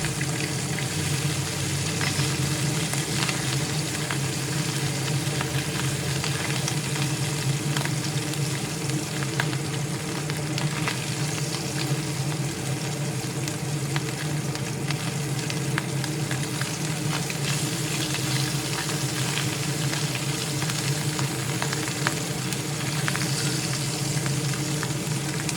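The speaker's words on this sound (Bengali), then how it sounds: "ট্যাংরা মাছগুলোর এক পাশ ভাজা হয়ে গেছে, এখন অন্য পাশ ভাজার জন্য উল্টে দিচ্ছি।" Tangra fish shallow-frying in a pan and turned over to cook the other side, a steady broad sizzle that holds evenly throughout, close and fairly loud, with no speech.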